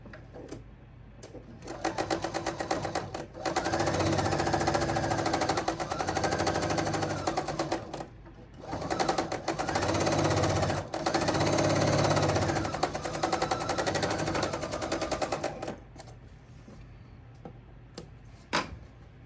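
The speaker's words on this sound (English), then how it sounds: "And now we're going to sew the 1/4 inch seam." A sewing machine runs a quarter-inch quilt seam in two long steady bursts of rapid, even stitching. A short pause separates the runs, and a few clicks come at the end.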